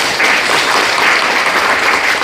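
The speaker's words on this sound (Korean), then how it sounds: "교육부에서 오신 두 분 과장님께 따뜻한 박수 좀" Warm applause from an audience at a policy forum on school violence and slow learners, a loud, dense patter of many hands clapping continuously and up close.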